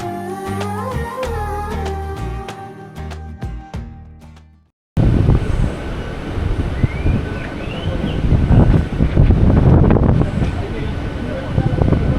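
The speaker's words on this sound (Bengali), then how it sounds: "এখন ট্রেন ছাড়বে, চলুন উঠে পড়ি, ট্রেন ছেড়ে দিয়েছে।" A train leaves on the Howrah–Kolkata line toward Digha with a broad, rising rumble and rushing wind noise, heard after a burst of music cuts off.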